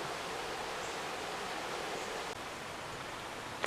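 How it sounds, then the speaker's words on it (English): Steady broadband rush of whitewater rapids on Deep Creek in the Smoky Mountains, a constant close roar of churning creek water with no voices, ending in a brief sharp rustle. "we're at a set of rapids here"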